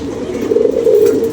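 Pigeons coo nearby in a low, throaty, rolling murmur that swells slightly midway, steady and fairly loud with no talking.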